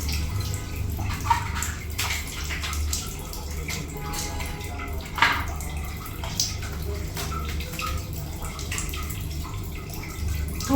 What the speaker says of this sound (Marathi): कपडे झाले धुवून, आता हातपाय धुवून घेते.